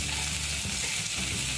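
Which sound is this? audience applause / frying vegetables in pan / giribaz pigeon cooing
frying vegetables in pan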